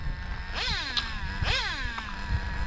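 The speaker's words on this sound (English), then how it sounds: "Yep, that's the sound of a gear stripping." A Traxxas Slayer Pro 3.3 nitro RC truck strips a gear, giving two short whining, zipping sweeps about a second apart, fairly faint against low background rumble.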